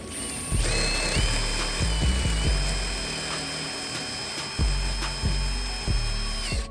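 A cordless power tool drives OEM bolts into a front lip on a GR Corolla. Several short, close whirring bursts carry an underlying high whine, with brief pauses between them.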